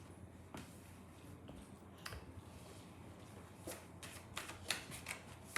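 Tarot cards shuffled by hand in a quiet room, soft riffling and flicking in irregular bursts that grow busier and crisper toward the end, fairly faint and close.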